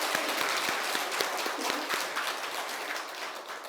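Congregation applauding in praise to God during a Sunday church service, a steady wash of many hands clapping at moderate distance that holds for a few seconds and gradually softens.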